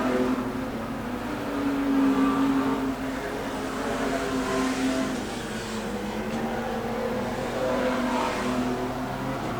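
Street stock race cars roar around a track, engines droning and swelling as they pass, with the field rising and fading across the moment and no voices heard.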